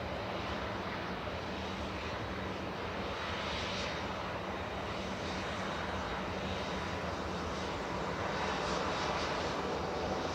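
An Aer Lingus airliner departs Manchester Airport for Dublin, its engines producing a broad, continuous roar heard from a distance, steady throughout and rising a little near the end.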